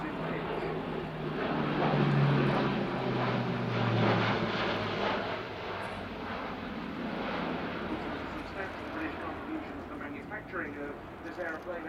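An Airbus A400M Atlas turboprop military transport flies a display at the RIAT 2014 air show, a broad droning engine roar that swells then slowly fades, heard beneath continuous commentary over a public address.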